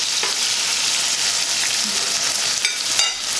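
Food sizzles and fries steadily in a hot pan for Jamaican ackee and saltfish, a continuous close crackle with a few sharper pops and stirring scrapes, no voices.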